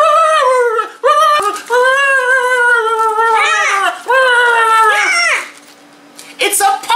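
A toy puppy bag plays high, whining electronic puppy yelps and whimpers in long wavering tones, loud and close, with brief gaps between cries.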